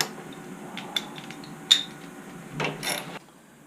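A ratchet wrench tightens a bolt on a Baja Warrior 196cc mini bike, giving a few sharp metallic clicks close by, then a brief rustle of handling near the end, with no talking.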